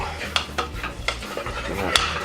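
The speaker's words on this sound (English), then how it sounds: "you're just gonna stir all of it together until it becomes a ball of dough" A spoon scrapes and clinks against a bowl while stirring flour and dark cocoa powder into a dough, giving a series of irregular knocks and soft scraping strokes, close and clear.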